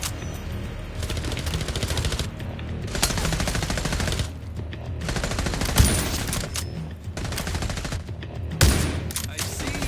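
Gunfire from The Division Resurgence crackles in dense, rapid automatic bursts across the whole stretch, loud and close, broken by a few brief pauses and sharper single cracks.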